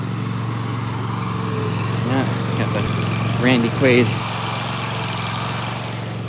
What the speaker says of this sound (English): Somebody's out here mowing the lawn.